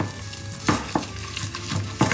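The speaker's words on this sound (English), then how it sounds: "Just going to beat that flour in." A small whisk beats flour into thick wartime ration cake batter in a bowl, repeated scraping strokes and periodic knocks against the bowl in an uneven rhythm, close up with no talking.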